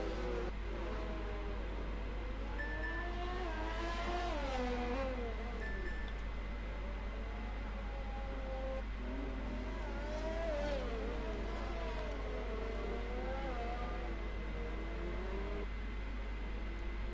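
Race cars on a formation lap in the Formula 7 racing game at the Russia round, engines revving and shifting through rising and falling whines over a steady low drone, fairly faint, several cars warming their tyres.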